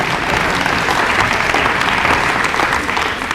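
Dense, steady applause from a crowd at a Narcotics Anonymous banquet, a loud continuous wash of many clapping hands that holds throughout.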